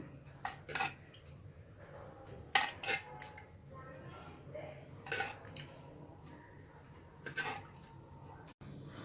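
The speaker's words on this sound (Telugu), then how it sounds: "తయారు చేసుకున్నటువంటి కొర్ర జావను ఒక బౌల్లోకి తీసుకుందాం." Foxtail millet porridge scooped from a pot into a bowl, with soft scraping spoon strokes and a few sharp metal clinks spaced across a quiet background.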